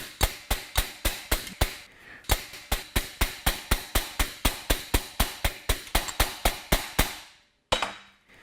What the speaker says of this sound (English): I'll use a hammer with a rounded face to tap the metal down